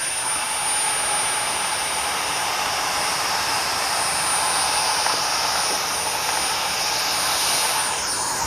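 A Dyson Micro 1.5kg cordless vacuum cleaner runs on regular power, giving a steady, loud, close-up high-pitched whooshing whine that holds constant the whole time.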